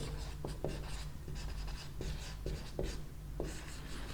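Chalk or marker writing on a board during a chemistry lesson on the solid state, heard as a run of scratchy strokes and short taps at an irregular pace, steady and close over a low electrical hum, with no talking.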